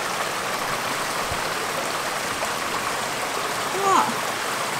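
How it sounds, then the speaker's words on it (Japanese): A mountain stream rushes strongly after heavy rain, a dense continuous roar of flowing water close by, with a faint bird chirp near the end. "なんか水の音が力強くなってきたね。"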